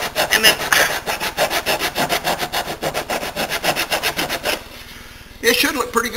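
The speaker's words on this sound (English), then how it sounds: "then I'm going to grind those flat with my rasp here" A hand rasp grinds wood slivers flat on a gekkin, a loud rhythmic back-and-forth filing with about twenty quick regular strokes, a short pause, then more rasping.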